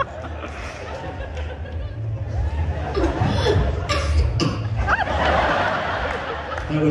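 An audience member coughing at a comedy show at Latitude Festival 2012, short coughs over crowd murmur and scattered chuckles, with people talking.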